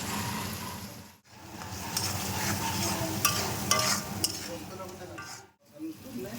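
Ginger, cumin, dried and green chillies frying in a pan, a steady sizzle with stirring scrapes and clinks, interrupted by two short silent breaks.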